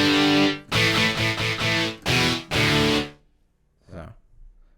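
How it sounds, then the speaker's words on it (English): Distortion electric guitar preset from GarageBand on iOS, playing a loud, sustained chordal phrase of several struck chords over about three seconds, followed by a quieter, short strum. "And a distortion guitar."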